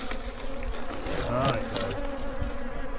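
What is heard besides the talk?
bees buzzing around a beekeeper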